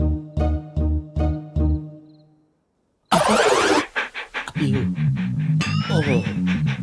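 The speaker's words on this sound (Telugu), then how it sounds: "ఇది కరిచే కుక్క అస్సలు అరవదు." A dog in a comedy film scene pants in a quick, regular rhythm of breathy bursts near the start. After a brief silence, loud, busy sound takes over with voices and other noise.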